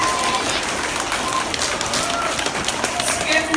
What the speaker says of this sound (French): oui, on peut applaudir parce que ce que vous faites,